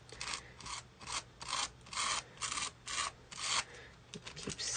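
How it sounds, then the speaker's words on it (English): Sparkle paste being scraped through a stencil onto a card, eight or nine rhythmic rasping strokes close up, each a rough smear followed by a brief pause. "Keep scraping it to get nice and flat layers"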